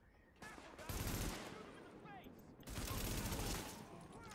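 Gunfire in The Division comes as two dense bursts of rapid shots, loud and close, with a short lull between them.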